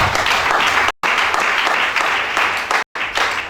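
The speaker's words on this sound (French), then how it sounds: "Acclamons Shaddai" A church congregation applauds during a worship service, steady dense clapping filling the space, broken by two brief gaps, with no speech over it.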